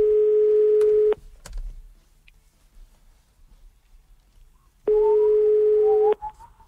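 A telephone dial tone on a live radio morning-show call sounds as two steady, loud held tones about a second long each, separated by a quiet gap with faint clicks.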